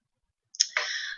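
A single computer mouse click while setting up custom tabs on a Facebook page, one crisp near click followed by a short, softer trailing click, with silence around it.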